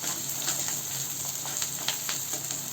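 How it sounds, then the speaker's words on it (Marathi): Chopped onion and green chillies sizzle and crackle steadily in hot oil with cumin, giving a continuous bright frying hiss with small pops throughout. "आता हे दोन्ही आपण परतून घेऊया."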